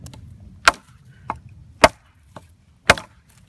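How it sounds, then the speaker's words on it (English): A Gransfors Bruk Wildlife Hatchet chops into dry hardwood with four sharp, close strikes at uneven intervals, two loud and two lighter, against a faint low background rumble. "Now this is really dry wood, so It's going to be a little bit harder to chop."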